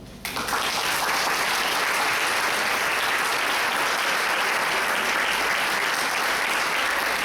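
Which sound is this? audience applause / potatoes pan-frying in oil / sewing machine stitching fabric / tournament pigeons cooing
audience applause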